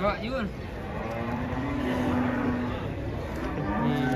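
Cattle at a crowded livestock market, with a nearby cow mooing in long drawn calls amid the busy murmur of buyers and sellers haggling.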